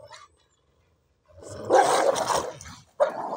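Cane Corso and Dogo Argentino scuffling, with loud growling, snarling and barking bursts close by after a short silence, one sharp outburst near the end.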